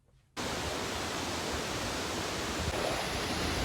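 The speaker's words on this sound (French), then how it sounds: "Là on se trouve dans la cascade de Pisse Vache qui se trouve vers Saint-Moritz." Pissevache waterfall near Saint-Maurice, Switzerland, thunders as a dense, steady roar of falling water. It bursts in close and loud after a brief quiet start, then holds constant.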